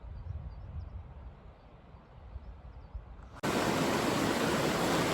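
A quiet, low outdoor rumble gives way abruptly to a loud, steady rush of stream water flowing through a Scottish river course, close and constant.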